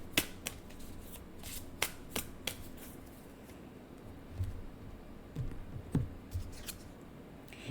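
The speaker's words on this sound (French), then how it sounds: "Je vais sortir une autre carte ici." Tarot cards are drawn from a deck, quiet crisp flicks and snaps of card stock in a loose cluster at first, then soft low taps and slides as a card is pulled and laid down.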